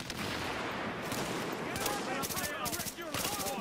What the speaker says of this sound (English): Well, keep shooting. I'm shooting.